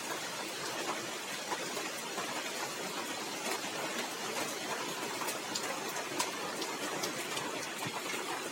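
Steady morning rain after a night of downpour in rural Bangladesh, a dense even hiss with scattered sharp drips and ticks, constant and close throughout with no talking.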